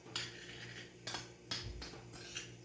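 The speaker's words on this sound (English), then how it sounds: "so I'll mix this up" A utensil mixes a cauliflower coating with Parmesan in a bowl, giving four sharp clinks and scrapes spaced about half a second apart, close and fairly quiet.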